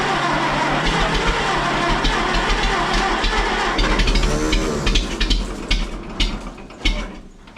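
A hay rake's small engine fires up on choke and runs steadily with a rattling, mechanical clatter, loud and close, the running note wavering and fading slightly toward the end.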